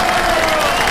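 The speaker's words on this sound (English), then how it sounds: "massive round of applause for this man" A street march crowd breaks into dense, continuous applause, loud and close, with cheering voices blended into the steady clapping wash for the whole second.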